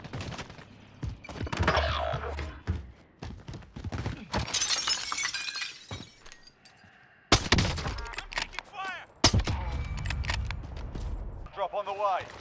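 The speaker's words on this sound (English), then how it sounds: "I'm shooting these guys in the head" Gunshots and shattering impacts from a Call of Duty Warzone match, irregular sharp bursts mixed with game effects, heard under someone talking.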